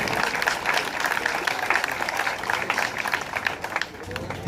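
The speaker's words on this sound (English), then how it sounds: "I'd like to have you give a round of applause to fellow Commissioner Joan Freer Capuano" An outdoor crowd at a Detroit riots commemoration in Gordon Park gives a round of applause, scattered hands clapping with an uneven rhythm and some voices mixed in, tapering slightly near the end.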